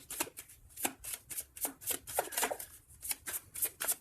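Close, crisp riffling of a tarot deck being shuffled, rapid repeated card flicks in a steady rhythm over several seconds before a card is drawn, with no voices.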